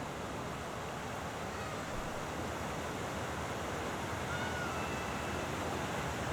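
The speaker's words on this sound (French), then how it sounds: "c'est pas une fontaine, c'est plutôt comme une cascade artificielle ici" Artificial waterfall in a Pittsburgh city park, a steady broadband rush of falling water that stays even and constant throughout, with no voices.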